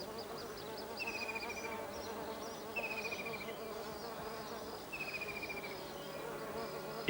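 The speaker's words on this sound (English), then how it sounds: "It draws a steady stream of insects. The most common visitors are honeybees." Honeybees and other insects buzz steadily around fragrant bug orchids in a humid meadow, a continuous close drone with a brief higher whine recurring every couple of seconds.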